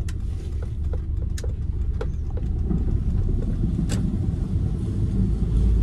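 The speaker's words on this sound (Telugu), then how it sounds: "అండ్ కార్ పుల్ కూడా చాలా బాగుంది, చాలా క్విక్ రెస్పాన్స్ ఉంది అనమాట థ్రాటిల్." A 2009 Maruti Suzuki SX4 petrol sedan pulling under throttle, heard from inside as a steady low engine drone and road rumble with faint clicks, no voices.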